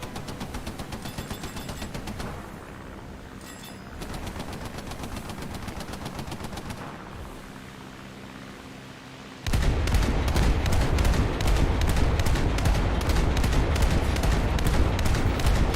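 Aircraft strafing a ship in a naval video game: continuous rapid machine-gun fire, steady at first, then a louder, denser stretch of rattling bursts that runs to the end.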